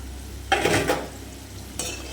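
Tal puli palm fritters frying in oil: a burst of bubbling sizzle and light utensil scraping rises for about half a second, fades, then a fainter sizzle returns near the end over a low steady background.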